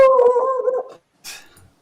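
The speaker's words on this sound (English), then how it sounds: "Where did the dog come from?" A dog howls once in a sustained, wavering tone for about a second, close and loud, followed after a short pause by a softer whimpering yelp.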